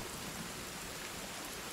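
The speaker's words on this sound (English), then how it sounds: "It's raining." Steady rain pours down in the video game Sons Of The Forest, a dense even hiss of drops with no pauses, fairly soft and continuous.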